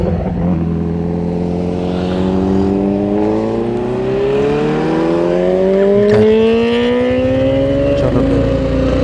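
A Kawasaki Z900 motorcycle engine revs steadily upward, its deep multi-toned drone climbing in pitch over several seconds and then dropping back. It is loud and close, with no talk.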